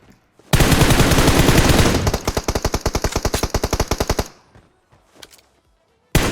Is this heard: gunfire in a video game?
yes